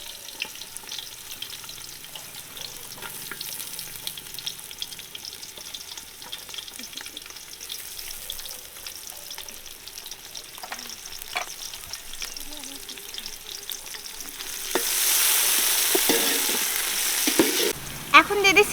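Onions, green chilies and garlic fry in hot oil in a village kitchen pan, a steady crackling sizzle with scraping stirs, swelling into a louder, hissing burst near the end.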